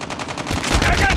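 Rapid automatic gunfire from a Call of Duty online match, a dense burst of shots building in loudness over about a second, with no talk over it.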